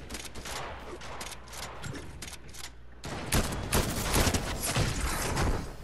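E-11 blaster rifle fire in a Star Wars shooter game, rapid bursts of shots going off continuously and growing louder and denser in the second half.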